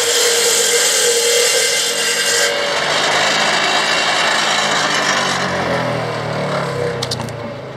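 A power saw bites steadily through a dense, freshly cut log outdoors, giving a loud, continuous rasping roar that barely lets up and eases slightly near the end.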